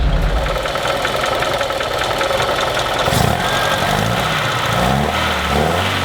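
An abandoned 1976 BMW 2002 engine running, a loud steady mechanical chug that revs briefly and then settles into an even idle, close up with a brief clank partway through.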